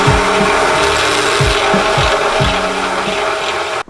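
A step drill bit cuts a hole through an oil pan during a turbo KA24DE engine build, giving a steady loud grinding, rasping drone with periodic bites and catches, close and uninterrupted, ending abruptly.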